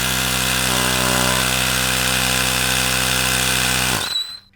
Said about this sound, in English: Attach your tire pump and inflate to 45 psi.